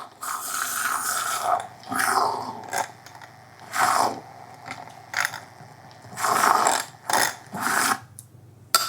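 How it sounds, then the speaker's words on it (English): A drink, part of an easy high-protein meal, is whisked to blend it, giving a series of loud, whirring, scraping bursts separated by short pauses, close up with no talking. "I'm going to whisk that up so it's nice and well blended."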